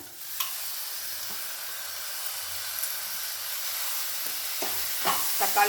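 Steady hissing sizzle of tomatoes sautéing in a hot pan, with occasional clinks and scrapes of a spoon stirring near the end.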